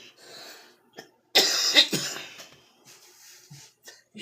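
A smoker's coughing fit breaks out in a quiet room: a few soft breaths and throat sounds, then a loud, harsh burst of several racking coughs that trail off into smaller hacks and wheezy breathing.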